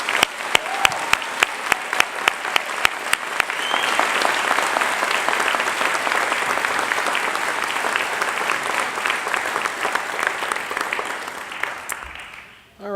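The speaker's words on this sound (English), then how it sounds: "So, one more round of applause for these fine students." An audience at a college academic and leadership awards convocation claps for award-winning students: dense, loud applause with sharp individual claps at the start, holding steady before tapering off near the end.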